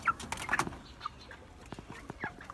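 Several short clucks and squawks from large chickens nearby at feeding time, scattered irregularly over faint background noise.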